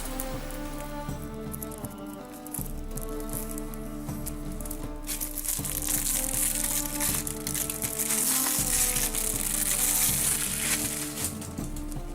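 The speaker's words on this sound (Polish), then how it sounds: "Dobra otwieramy folię" Plastic shrink-wrap foil being torn and peeled off a Witcher 3: Wild Hunt collector's edition box, giving a close, continuous crinkling and crackling that grows louder and busier partway through.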